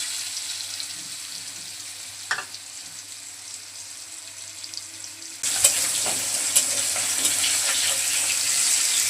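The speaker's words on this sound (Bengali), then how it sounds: "প্রথমে মাছগুলো ভেজে নেব।" Pangas fish pieces drop into hot oil, a quieter kitchen backdrop with a brief clatter giving way to a sudden louder, steady sizzle that continues to the end.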